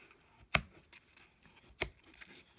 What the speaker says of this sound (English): take your scissors and just cut the strings in the middle